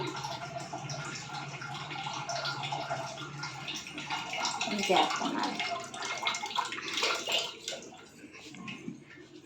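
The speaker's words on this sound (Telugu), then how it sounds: "ట్యాపు కొంచెం లూజ్ కలెక్షన్ అయింది పిన్ని లూజ్ అది వాటర్ పోతున్నాయి" Water running steadily from a loose tap connection in a home kitchen, a continuous hissing splash with people talking over it.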